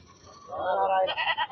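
Goats bleat at a Saturday goat market in Ettaiyapuram, Thoothukudi district, Tamil Nadu: a rising, wavering bleat swells up and breaks into several short pulses, fairly close and loud, with no speech over it.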